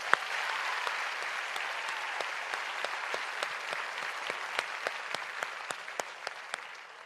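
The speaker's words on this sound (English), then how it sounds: "Let's give these young women a round of applause." Audience applause at a 2015 high school graduation ceremony for top-ranking graduates, a steady wash of many hands clapping that holds for several seconds, with sharper individual claps standing out as it slowly tapers near the end.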